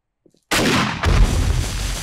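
A landmine goes off in the video game 7 Days To Die: after near silence, a sudden loud, roaring blast erupts, with a second heavier boom a moment later and a sustained rumbling tail.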